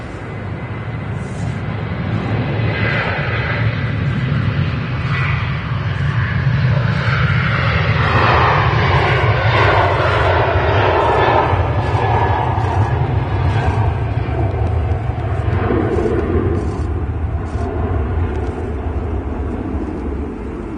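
A Ryanair airliner at Manchester Airport roars loudly and steadily with broadband engine noise, its tone shifting as it passes near the runway tunnels, with no talk over it.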